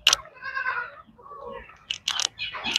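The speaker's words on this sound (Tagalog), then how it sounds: "Ibang kambing natin dito lang sa gitna." Goats bleat on a sunny morning farm, a long wavering call followed by several shorter, sharper bleats from nearby animals, with no talking.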